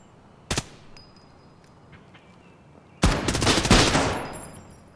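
Gunfire including a shotgun in the horror shooter Project Quarantine: one sharp close blast, a quiet pause, then a loud cluster of several overlapping shots that rings out and fades.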